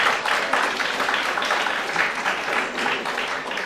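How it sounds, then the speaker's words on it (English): An audience at a college magazine launch event gives a round of applause, a steady, fairly loud mass of clapping with slight swells and no speech. "Give him a big round of applause."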